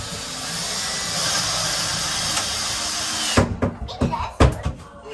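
A power drill driving screws into custom wooden cubbies, first a long steady whirring run, then several short, sharp bursts and thumps close by.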